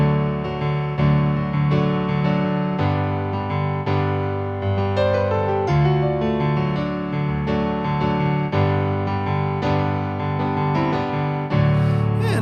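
Piano playing a song, full chords and melody in a steady rhythmic pattern, close and alone for about twelve seconds.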